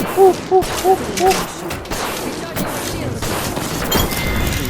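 Grenade explosions and gunfire in a shooting video game come as a rapid cluster of blasts, then rumbling booms and crackling continue under excited players' talk.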